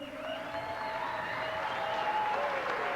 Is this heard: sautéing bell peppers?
no